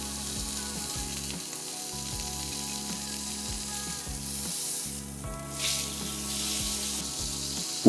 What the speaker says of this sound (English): when searing it off on the flat top is you hit all sides